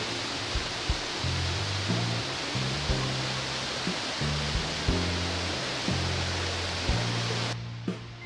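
A waterfall near a cave pours out a steady, close, broadband rushing roar that fills the whole clip, with soft background music faintly audible beneath it.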